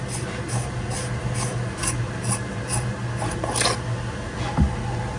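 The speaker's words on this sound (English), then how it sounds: "Come over here and unscrew the handle." The threaded handle of a custom Neopixel lightsaber with a Proffie board is twisted loose in a series of short, evenly spaced rasping scrapes, close and dry, with a low hum underneath.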